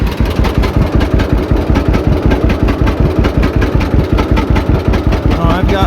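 A John Deere AR tractor engine runs close by at a tractor pull with a loud, rapid, even chugging pulse, as though it is running low on fuel.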